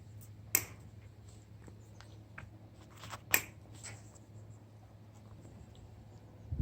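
Wire mesh being cut for a tomato cage: two sharp, distinct snips a few seconds apart with faint handling rustle between, close and quiet, no talking.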